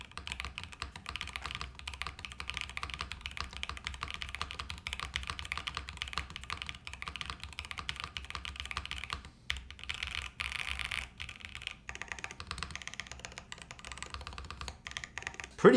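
Steady, fast typing on a mechanical keyboard fitted with nylon switches and PBT keycaps, a continuous close clatter of keystrokes with one brief pause near the middle and no talking.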